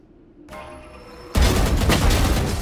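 Rapid gunfire from a spray transfer in the Valorant video game: after a quieter lead-in, a dense, loud burst of shots erupts and continues without pause to the end.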